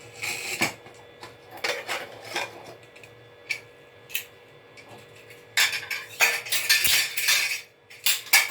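Metal clatter of a pressure cooker lid being opened on a pot of cooked chickpeas (chole), with several sharp clanks and scrapes spread through the clip, louder toward the end, no talking.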